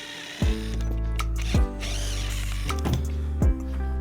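A power drill whirs in short bursts, with sharp knocks as each run starts, four cycles of spinning up and winding down while taking apart wooden chairs, close by with no talking.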